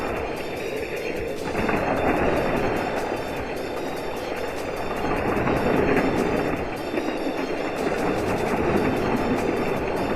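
Hot Wheels toy trains race around a double triple-loop track, a steady busy clattering rumble of small wheels on plastic track with faint clicking, holding at a constant loud level and swelling slightly midway.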